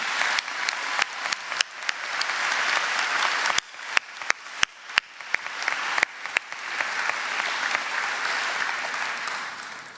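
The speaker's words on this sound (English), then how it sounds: "I would like to give them a big round of applause for all that they have done to help us throughout this journey" A large audience at a graduation ceremony applauds at length, a broad, steady wash of many hands clapping with scattered louder claps near the front, sustained for the full stretch with no speech.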